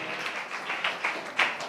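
A church congregation claps together in thanks to the Lord, a close, dense patter of many hands with a few louder bursts rising out of the steady clapping.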